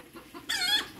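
Soft clucks lead into a single louder, sharp chicken squawk close by, brief and alone.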